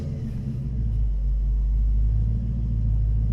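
A 1970 Chevelle SS with a 454 V8 idles with a deep, heavy rumble that holds steady and loud throughout, without talk.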